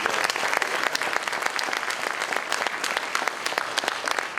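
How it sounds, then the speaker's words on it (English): Applause for the city council during the Romulus State of the City Address: a full room clapping steadily and briskly, loud and close, with no speech over it. "So round of applause for our city council"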